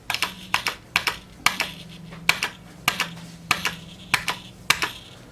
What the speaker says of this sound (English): I don't like the button very much. You can hear the spring in it.